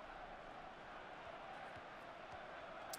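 Steady roar of a simulated stadium crowd during a FIFA Ultimate Team soccer match, a dense continuous wash of cheering that stays level throughout with faint voices over it.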